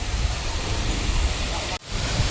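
Kalu waterfall near Pune pours in a steady, dense broadband roar close by, with a brief dropout near the end before the rushing water resumes.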